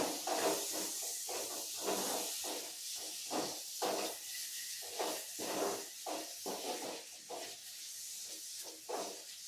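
Chopped tomatoes hiss and sizzle in a pan while a Kerala kadala curry cooks, with soft bursts of frying rising and fading in an uneven rhythm, close and fairly quiet.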